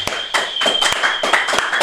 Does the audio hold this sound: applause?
yes